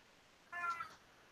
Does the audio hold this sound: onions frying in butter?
no